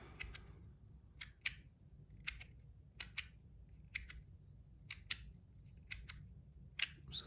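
A Practical3d brass slider fidget toy clicks back and forth in crisp, quiet metallic snaps, often in quick pairs, spaced irregularly over a soft low background hum, close and alone.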